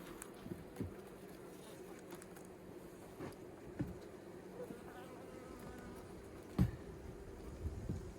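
A steady, close insect hum of a honey bee colony buzzing, with a few soft clicks and knocks scattered over the drone.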